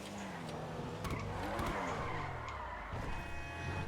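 The Comet Retro in GTA Online skids under its handbrake, its tires squealing in long, wavering screeches over the continuous drone of the engine.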